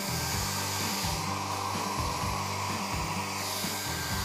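A hair dryer blows steadily and loudly throughout, a continuous whirring rush, used to shape contours on a painting.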